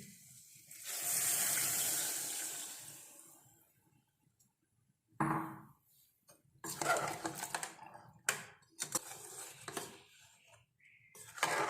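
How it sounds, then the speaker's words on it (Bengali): Water is poured into a pot of chickpea masala with a loud rushing splash that fades, then follows a sequence of sharp clattering knocks and handling sounds close by. "এখন আমি জলটা দিয়ে দিচ্ছি।"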